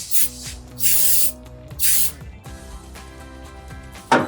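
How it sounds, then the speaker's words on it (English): Aerosol electrical connector cleaner sprays onto the tail light wiring connectors of a 2009-2018 RAM 1500 during an LED tail light install, in three sharp, close hissing bursts and a final short spurt, with faint tonal sound underneath. "Let me spray them down. This is just electrical. Like connector spray."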